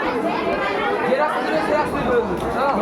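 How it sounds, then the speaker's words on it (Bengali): Dense crowd of pilgrims chattering at a busy temple near a bathing pond, a steady babble of many voices close and loud throughout, with no single voice standing out. "দেখো এখনো কত ভিড়"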